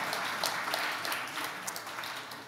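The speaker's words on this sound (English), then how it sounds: "please clap once more to establish familiarity with my panel" Audience clapping for a conference panel on mobile cost data, a brief, fairly faint patter of many hands from a hall, steady and then tailing off slightly.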